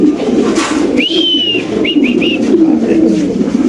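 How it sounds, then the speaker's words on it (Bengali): Pigeons at a pigeon farm make a constant low, murmuring coo, with a few higher whistling chirps rising briefly above it. "নর কবুতর মাশাআল্লাহ দেখেন"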